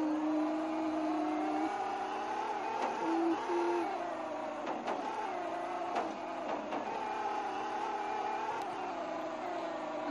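A car driving in a video game, its steady engine drone humming loud and continuous throughout, with slight rises and dips in pitch and a few faint clicks, and no speech.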